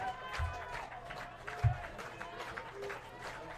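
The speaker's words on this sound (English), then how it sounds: "Moose Jaw fans trying to clap Adams out." Baseball fans in the stands clap rhythmically at a ballpark game, faint and distant under a commentator's voice, with a couple of dull thumps.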